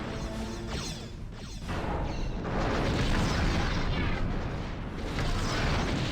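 A volley of torpedo explosions in a Star Trek starship battle video game featuring a Klingon Bird of Prey, a dense rumbling barrage of booms and crashes that swells and sustains, loud and without speech.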